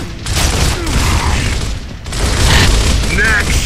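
Gunfire and explosions from the video game Gears of War crackle and boom continuously in the foreground, with a player's voice talking over the battle.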